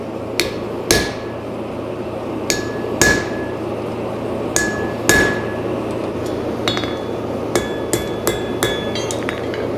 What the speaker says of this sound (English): utilizing a ball peen hammer, I'm going to place it on the big chin, the big jawbone we made, and begin drawing it out and giving it some shape